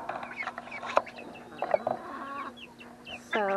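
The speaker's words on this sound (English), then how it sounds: "So I got one duck, three chickens, two turkeys in here." Chickens cluck and call in a pen shared with one duck and two turkeys, a few short bird calls close by with a louder burst of clucking near the end.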